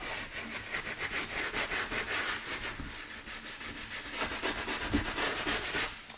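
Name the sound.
wooden-bristle scrubber scrubbing pleated leather aircraft seat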